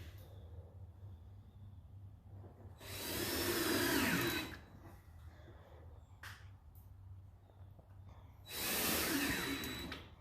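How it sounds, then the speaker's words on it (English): A power drill drives screws into the frame of a live edge countertop being built from scratch, in two loud sustained bursts separated by a quieter stretch of workshop background. "you want to go ahead and get your screws in there to lock that down in and hold it"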